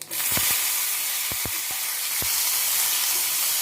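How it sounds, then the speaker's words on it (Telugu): Coriander seeds and cumin fry in a pan for snake gourd roti pachadi, giving a steady close sizzle broken by a few light crackles and spoon taps. "ఇప్పుడు ఇందులో ధనియాలు జీలకర్ర కొంచెం వేగిలో చాలండి ఎక్కువ వేగక్కర్లేదు"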